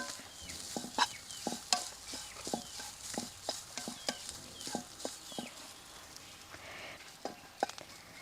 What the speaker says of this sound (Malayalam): ഇതൊന്ന് ചൂടാവട്ടെ തേങ്ങ